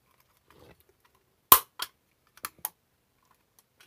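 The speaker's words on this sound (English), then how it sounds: "There's going to be a real loud clicking noise." Loud sharp clicks from a homemade LED tester being clipped onto a connection, one strong snap followed by a few quieter clicks in quick succession, close and isolated in a quiet room.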